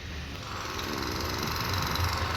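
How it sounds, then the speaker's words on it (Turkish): Construction work at a hotel building site in Douala, Cameroon: a steady, continuous mechanical rumble and grinding drone, like machinery or power tools running without pause, moderately loud and outdoors with no talking. "burada da bir inşaat yapıyorlar. Sanırım otel inşaatı."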